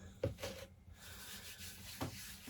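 Hands rubbing in flour while making croissant dough: soft, dry brushing and rubbing strokes, close and quiet, with a couple of more distinct swipes separated by pauses.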